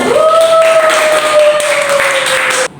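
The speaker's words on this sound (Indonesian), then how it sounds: "Beri tepuk tangan untuk kita semua," High school students in a biology class clap together for themselves, a dense, loud patter of many hands under a steady ringing tone, cutting off sharply at the end.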